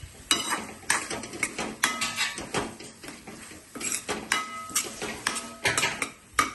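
Boiled rice goes into a pan for butter garlic paneer fried rice, bringing quick repeated metallic clinks and scrapes of a spoon against cookware in an irregular, close rhythm.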